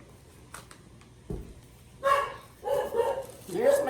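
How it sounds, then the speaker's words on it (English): A dog barks several times nearby, a few sharp yelps in quick succession after a quieter stretch. "There's my doggy barking."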